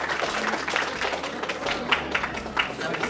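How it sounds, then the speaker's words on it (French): An audience claps warmly for a guest on a Belgian TV show, dense sustained applause with a few louder accents, and someone speaks briefly over it. "Kim Burley, on peut applaudir bien fort."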